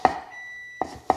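Three short electronic beeps at uneven intervals, the first trailing into a faint sustained tone; clear and close, no voices.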